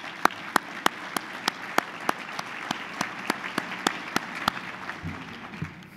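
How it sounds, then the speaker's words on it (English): Applause from a conference luncheon audience at the Boise Centre fills the room, a steady wash of hands with regular sharp knocks throughout, no talking over it. "Let's give them a round of applause."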